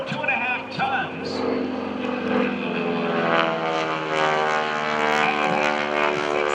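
A 2.5-ton aerobatic propeller airplane with a 600-horsepower engine drones steadily at an airshow, its loud, sustained engine roar and propeller buzz continuous under a voice.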